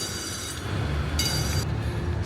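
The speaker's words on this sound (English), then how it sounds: "I've been waiting for that train to go past" A small amusement park train rolls past at Six Flags Over Georgia, a steady low rumble of wheels with a brief metallic squeal and clatter swelling midway, no voices over it.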